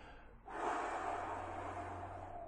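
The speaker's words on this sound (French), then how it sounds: "Moi aussi, je commence à bâiller." One person yawns, a single long, breathy drawn-out exhale that begins abruptly after a brief quiet moment and trails off slowly, close and soft.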